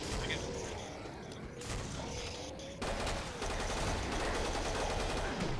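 Rapid gunfire in the co-op shooter Killing Floor, dense bursts and shots stacking into a loud continuous volley that intensifies midway, with game effects layered underneath.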